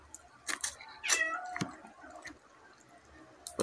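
A cat meows near someone eating a mukbang meal, several short close meows and a drawn-out whining cry, fairly faint against a quiet background with a few small clicks.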